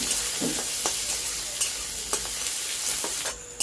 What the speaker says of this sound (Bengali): পেঁয়াজের কুচি একটু ভালো করে ভেজে নেবো একটু লাল লাল করে ভাজবো